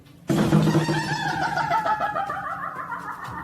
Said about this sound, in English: This door sounds like a witch, and I'm not even exaggerating.